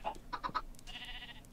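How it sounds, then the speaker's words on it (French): Sheep bleating in the Minecraft video game: a few short clipped bleats near the start, then one longer sustained bleat, fairly faint with no talk over it. "Alors, les moutons, venez ici."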